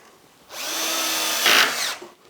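A power drill drives a Euro screw into a cabinet, a steady whine for about a second and a half that rises in pitch and loudness near the end before stopping.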